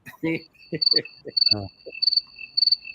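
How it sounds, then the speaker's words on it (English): Cricket chirps played as a sound effect pulse in short rhythmic bursts, steady and clear, while someone talks over the start before the chirping continues alone. "The crickets, there you go."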